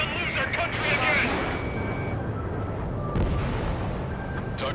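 Bombs explode in Ace Combat 7, heavy booming bursts over a constant jet roar, with a louder blast around the middle and sharp cracks near the end while radio voices talk.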